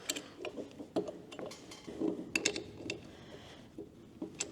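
Copper flange nuts being tightened on a turbo from a CASE excavator, a series of close metallic clicks, ratcheting ticks and light clinks of tools, irregular and fairly quiet, with no speech.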